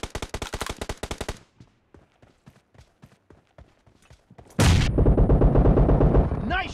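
Gunfire in a shooter video game: rapid bursts of shots open the clip, then sparse single shots follow, before a dense, loud automatic barrage takes over for the final seconds.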